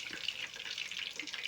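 Chicken legs fry in a pan over low heat, giving a soft, steady crackling sizzle with fine spitting pops, faint and close, with no talking.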